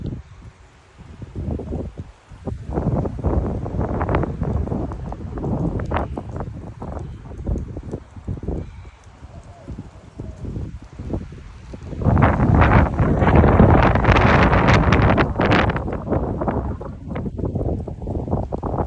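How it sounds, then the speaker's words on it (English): Strong 40 mph wind gusts in Frisco, Texas buffet the microphone with loud, uneven rumbling bursts, swelling into a heavier sustained blast in the latter half. "So windy."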